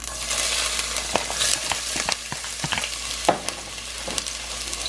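Ginger fries in very hot toasted sesame oil in a pot, a loud, bright crackling sizzle with sharp spattering pops and stirring scrapes throughout.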